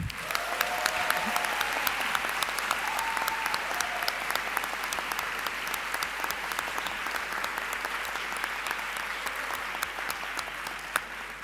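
A conference audience applauds the Best Delegate Award winner at a Model UN closing ceremony, with sustained, dense clapping from many hands that holds steady throughout.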